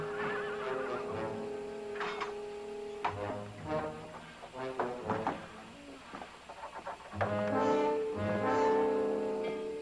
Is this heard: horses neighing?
yes